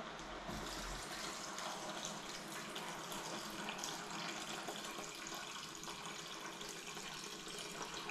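Filtered tap water runs steadily into a container from a faucet, a continuous close splashing fill heard alone without talk.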